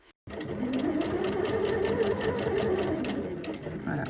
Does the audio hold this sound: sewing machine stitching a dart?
yes